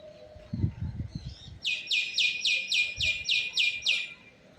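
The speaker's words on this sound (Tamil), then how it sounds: "காலையில் இந்த பேர்ட்ஸ் கத்துறதெல்லாம் கேட்கும்போது ரொம்ப நல்லாயிருக்கு" Birds chirp in the morning outside a balcony, a quick run of about eight bright, evenly spaced high notes, fairly close and clear, after a few soft low knocks.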